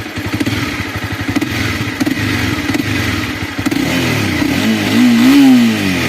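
Honda CBR300R motorcycle engine revved with the throttle, close and loud, with rapid pulsing blips that rise into a sustained higher whine and then fall back, with no talking.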